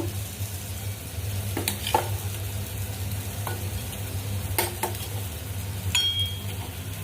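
Masala for a fish curry sizzles steadily in a pan as water is poured in, with a low constant frying hiss, a few soft utensil clinks and scrapes, and no talking.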